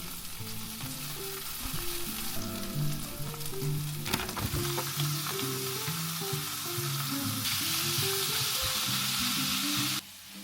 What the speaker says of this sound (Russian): Нужно каждый кружочек обжарить со всех сторон.